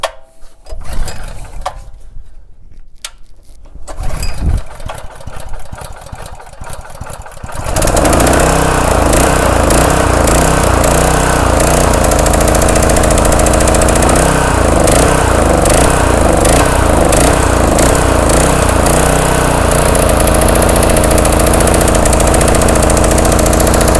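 A Honda GX200 small engine with a leaking carburetor is pulled and cranked through several rough attempts, then catches and runs loud and close with a steady, sputtering roar that never drops off, and no voices.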